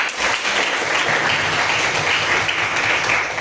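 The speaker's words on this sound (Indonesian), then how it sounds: "Tepuk tangan untuk kalian." A class of students applauds together in a classroom, steady dense clapping lasting throughout at moderate loudness with no voices over it.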